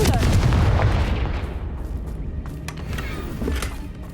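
A Confringo fire spell explodes in Hogwarts Legacy, a loud booming blast up front that rolls off into a fading rumble with crackling debris over a few seconds.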